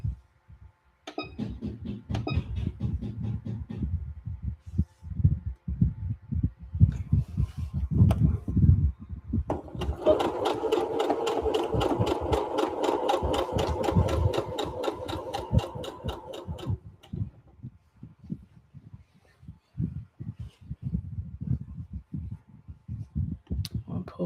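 A sewing machine runs in a steady, dense burst of rapid stitching while back stitching a seam, set between quieter stretches of handling noise and low talk.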